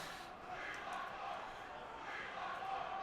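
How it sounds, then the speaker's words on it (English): A large arena crowd at a wrestling event chants in unison, a distant, swelling roar of many voices rising and falling in a rhythmic pattern. "And the crowd in the arena here chanting, "We want more tournaments.""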